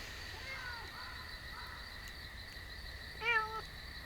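A black cat meows several times indoors, soft short mews spaced out, then a louder, clearer meow near the end, against a steady background hum.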